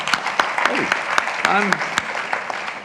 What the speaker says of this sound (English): I'm complaining and the guy's clapping about it.